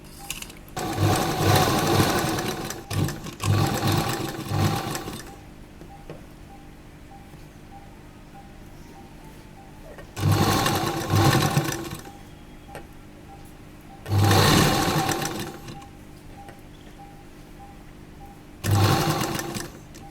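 Sewing machine stitching the side seam of a jacket dress: four loud, close bursts of whirring separated by quiet pauses, the first one long and the others shorter.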